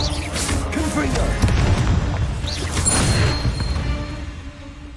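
Several booming Confringo spell blasts sound during Hogwarts Legacy combat, loud crashing impacts mixed with whooshes and battle noise throughout.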